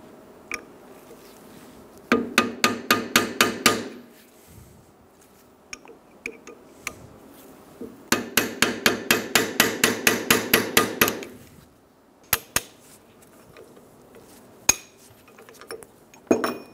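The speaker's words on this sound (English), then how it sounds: "Using a very pointy chisel, we're gonna go around the ABS sensor. We're gonna tap and we're gonna lift it up" A hammer taps a pointed chisel around a rear ABS wheel speed sensor on a 2007-2011 Toyota Camry, giving sharp metallic clinks in two quick rapid-fire runs, with scattered single taps between them and near-silence in the gaps.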